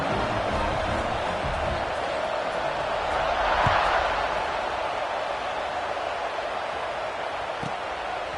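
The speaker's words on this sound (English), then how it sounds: "this crowd is feeling themselves after that last drive" Stadium crowd in Madden '26 football game roars steadily after a touchdown drive, a dense, continuous wash of cheering that swells briefly midway before settling back to a sustained loud hum.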